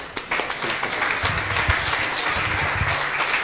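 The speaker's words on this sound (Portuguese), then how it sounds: "eu peço uma salva de palmas para eles todos" A crowd applauds the radio technicians at a 30-year reunion of Rádio Jovem de Tomar, a dense, steady wash of many hands clapping close by for a few seconds.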